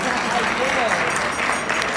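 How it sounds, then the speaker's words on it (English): Sustained applause from a crowd at a music and fine arts conference evening session, broad and steady throughout, with voices and cheering mixed in. "Would you give me a round of applause"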